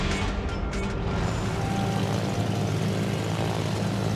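Steady droning roar of torpedo bomber propeller engines in a video game, loud and constant throughout with no talk.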